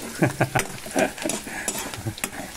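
Onions sauté with garlic in a pan for a Filipino tomato dish: short, quick spatula scrapes and stirs over a light, close sizzle, with no talking.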